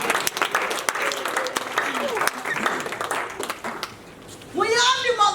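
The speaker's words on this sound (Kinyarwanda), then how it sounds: "Reka duhe Imana amashyi meza." Congregation applause in a church, a dense wash of clapping running for several seconds under a preacher's voice and crowd noise, fading briefly before a louder burst of cheering and voices near the end.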